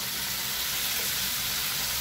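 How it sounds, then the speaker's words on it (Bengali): Sliced onion and capsicum sizzle in a hot pan, a steady close hiss of frying that runs unbroken throughout. "তো তোমরা দেখতেই পাচ্ছ পেঁয়াজ ক্যাপসিকাম হালকা কিন্তু ফ্রাই হয়ে গেছে"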